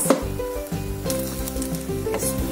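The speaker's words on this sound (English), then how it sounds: "the purpose of us frying that rice then was to make sure that the rice is single, doesn't stick together" Coconut rice fries in a pan with a steady, close sizzle and the occasional scrape of stirring, with no talking.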